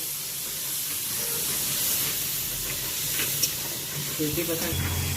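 Water poured into spices frying in a hot pan for a gourd curry, a broad steamy hiss and sizzle running steadily with small stirring clatters near the end, close and moderately loud.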